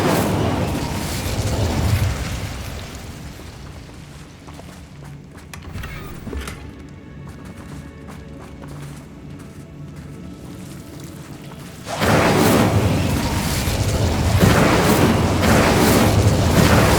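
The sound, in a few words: Incendio fire spell explosions in video game Hogwarts Legacy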